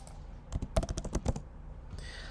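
Typing on a computer keyboard while entering a friend's details into an online request form: a quick burst of about a dozen close, crisp key clicks, then a short pause and a softer shuffle.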